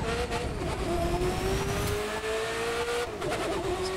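Ferrari F40 in The Crew 2 accelerating at full throttle, a loud close engine whose pitch climbs steadily through the gear before a brief shift, then rises again.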